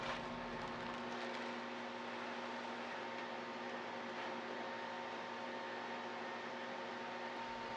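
Breville Joule Oven Air Fryer Pro running while preheated with sweet potato fries inside, a steady faint fan whir and hum that holds evenly throughout with no talk.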